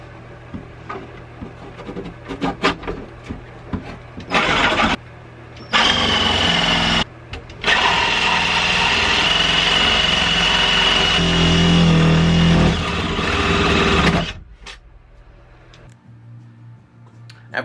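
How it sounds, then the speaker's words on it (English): A handheld saw cuts into the fiberglass of a battery compartment aboard a sailboat, with loud bursts of rasping strokes separated by brief pauses and scattered knocks and clatter before and after. "After a lot of sawing and fiberglass dust, Krista was finally able to get the batterie"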